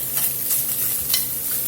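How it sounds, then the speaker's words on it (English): Steady, close sizzling of beef in a hot skillet, a continuous crackling hiss with faint stirring scrapes and no talking. "I hear some sizzling going on now."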